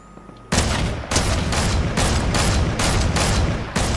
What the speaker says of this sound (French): Je vais leur tirer dessus aussi.